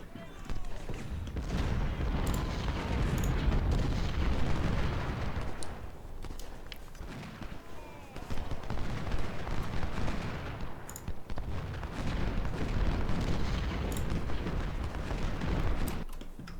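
Artillery and musket gunfire from an Ultimate General: Civil War battle at Antietam, a dense, continuous roar of booms and crackling volleys with sharper distant reports scattered throughout, no talk over it.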